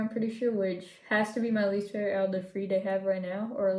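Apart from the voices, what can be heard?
No distinct noise like a dog, phone or traffic.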